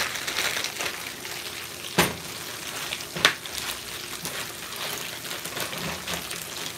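Catfish frying in hot grease gives a steady, fairly quiet sizzle and crackle throughout, with a couple of sharp pops standing out above the bubbling.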